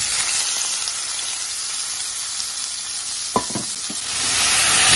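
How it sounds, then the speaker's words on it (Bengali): Green tomatoes fry in a little oil in a wok, giving a steady, close sizzle throughout, with a brief clatter of stirring near the end. "এর মধ্যে টমেটো গুলো ভেজে নিব।"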